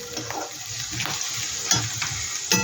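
Homemade pasta ingredients frying gently in a pan over a low gas flame, with a soft continuous sizzle and occasional sharper clinks of stirring against the pan.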